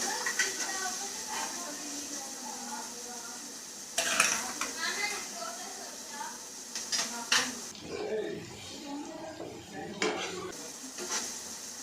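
Small chopped onions sizzle and fry in a pan with a steady, soft crackle while a spoon stirs and scrapes against the cookware now and then. A person speaks over the cooking.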